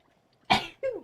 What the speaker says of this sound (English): Oh my god, that was like 5 sneezes in a row.